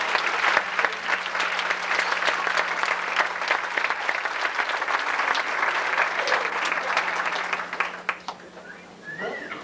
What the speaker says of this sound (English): Maybe we ought to just give a big round of applause for freedom